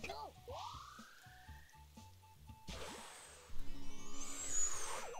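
Video game sound effects from Ribbit King: a rising electronic tone over a pulsing beat, then a frog croaks amid brighter chirping noises, quiet overall.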